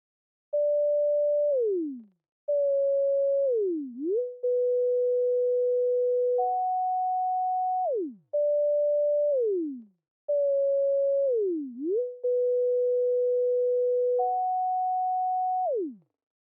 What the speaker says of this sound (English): It's just a sine wave with a bit of release so it doesn't end super abruptly.